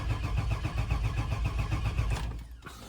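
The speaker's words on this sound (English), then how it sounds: "All right, so I'm gonna crank." Engine cranking on a 2000 Chevy Express van that fails to start: a close, steady rhythmic starter churn lasting about two seconds, then cutting off without the engine catching.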